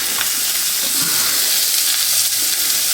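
Corn frying in a hot pan while being stirred, with a steady sizzling hiss that runs evenly throughout, close and fairly loud, plus a few soft low knocks of stirring.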